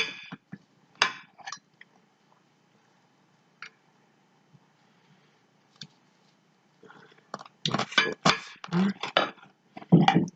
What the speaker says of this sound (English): Now, the pineapple, I'm going to slice it in 4.